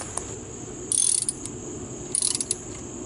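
A ratchet tightens a spark plug on a BMW E90 with the N52 engine, giving two short bursts of rapid, close metallic clicks separated by a quiet pause.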